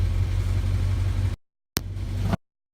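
A 1965 Jeep CJ5 engine runs with a steady low rumble, then cuts out abruptly, followed by two more brief bursts separated by silence, close by.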